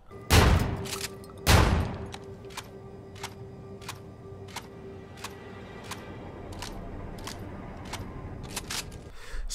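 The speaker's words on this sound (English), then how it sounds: "This is re reloading from 0 to 9 shots on the Rack 9 without dexterity" Rack 9 shotgun in a video game, without the dexterity perk, reloading from 0 to 9 shells: two loud opening bangs, then a long, evenly spaced run of crisp clicks as each shell goes in one at a time, close and clear.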